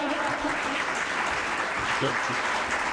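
Continuous audience applause at a poetry book launch (the Umalatya Kalya collection release), steady and dense clapping throughout with a few voices mixed in.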